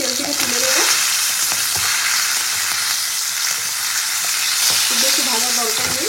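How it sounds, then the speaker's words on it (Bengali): Falui fish frying in hot oil, a loud, continuous bubbling sizzle held close throughout, with a few brief scraping stirs of a utensil breaking through at the start and near the end. "তো মাছগুলো আমার মোটামুটি ভাজা হয়ে গেছে, এবার আমি তেল থেকে তুলে নেবো।"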